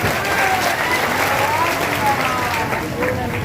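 Crowd clapping at an outdoor political rally in Purnia, a loud continuous patter of many hands mixed with cheering voices and babble.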